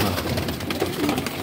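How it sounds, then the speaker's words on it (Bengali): A Madrasi pigeon, an old-generation green male with a short beak, gives a soft, low coo close by over a faint background hiss. "দুর্দান্ত দুর্দান্ত পায়রা এখানে আজকে শখ করা হচ্ছে"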